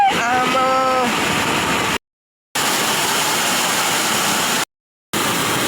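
Water rushes into a farm field in a steady, loud, noisy flow, with a brief tonal whine at the start and two short gaps of silence cutting the stream.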